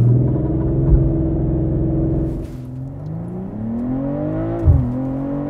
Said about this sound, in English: BMW M340i. X drive with launch control.